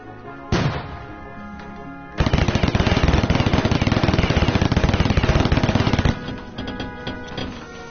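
Rapid assault weapon fire in a video game: a single shot, then a loud sustained automatic burst lasting about four seconds before trailing off into quieter echoes.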